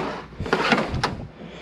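A toolbox drawer in a home workshop slides open or shut with a short wooden-metal rumble and a couple of knocks, close and fairly loud, with no talk.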